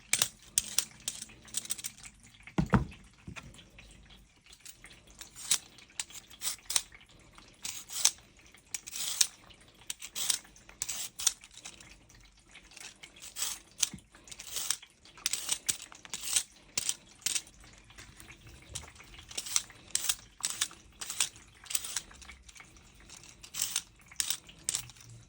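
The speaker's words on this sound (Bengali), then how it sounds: "ক্যারট কেটে নিচ্ছি।" Carrots being sliced on a board for a chicken and vegetable dish, a run of quick, crisp knife chops in irregular bursts, close and fairly quiet.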